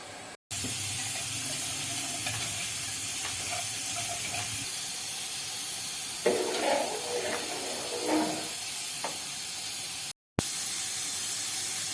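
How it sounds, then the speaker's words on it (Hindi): Rice is poured into a pot of boiling water with whole spices, giving a steady, loud hiss of steam and bubbling with a brief splashy rush partway through and no talking. "जब पानी उबल जाए तो चावल डाल दें।"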